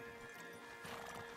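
Horse hooves clip-clopping in Red Dead Redemption 2, a brief, faint burst of hoof steps and gear over ambient game noise.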